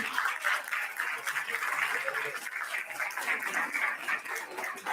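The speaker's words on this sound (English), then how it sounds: "Huge round of applause, everybody." Audience applause at a dental conference, a dense, steady wash of clapping from a crowd lasting throughout at moderate loudness, with no voices breaking through.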